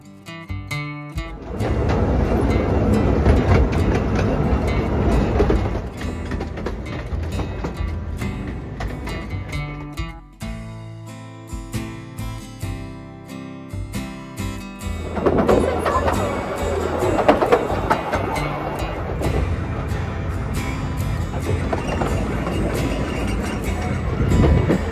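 A small heritage railway train runs along a one-mile track past old apple orchards, its rumbling and rattling rising and falling, with a quieter gap in the middle before the clatter builds again, fairly loud and close.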